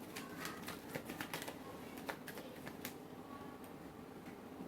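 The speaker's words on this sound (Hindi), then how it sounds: "This is my last shuffle." Tarot cards shuffled at a steady, close pace, a run of soft crisp riffling ticks and flutters with a few sharper snaps, steady and fairly quiet throughout with no talking.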